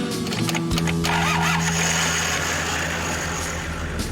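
An old car's engine cranks and catches after being hot-wired, the starter churning briefly before the motor fires and settles into a steady, close idle that runs without pause.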